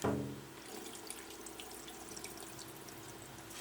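Starchy, milky water from rinsing rice is poured out into a sink: a close, steady splashing pour after a brief louder onset, continuing for a few seconds with no talking.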